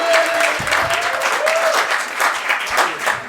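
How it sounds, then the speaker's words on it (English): A comedy club audience applauds steadily, a dense wash of hand claps sustained throughout with a faint tone drifting underneath. "keep that round of applause going"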